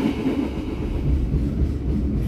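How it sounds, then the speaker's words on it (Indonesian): A local Merak commuter train pulls into Krenceng station on track 1, heard from inside the carriage as a loud, continuous low rumble and rolling wheel noise. "Kereta api lokal yang saya naiki masuk stasiun Krenceng, masuk di jalur 1."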